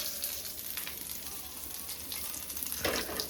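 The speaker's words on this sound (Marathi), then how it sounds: "इथे आमची कोलंबी फ्राय होते." Prawns fry in a pan over a wood-fired village stove, a steady close hiss and sizzle with faint stirring, without talk.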